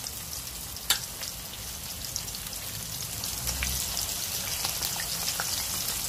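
Salmon pieces fry in hot oil with a steady, close crackling sizzle that has rain-like patter and a few sharper pops, continuous throughout without speech over it.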